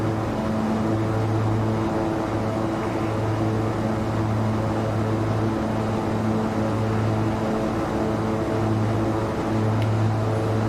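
A King Air 350 turboprop climbs after takeoff in X-Plane 12, giving a steady, even engine drone with a constant tonal hum that holds unchanged from start to finish.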